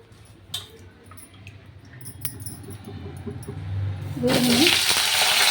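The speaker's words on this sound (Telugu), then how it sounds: "నూనె అయితే వేడైంది ఇప్పుడు వంకాయలు వేసుకుందామండి" A quiet kitchen with a few small clicks, then a sudden loud sizzle as brinjals hit hot oil and keep frying.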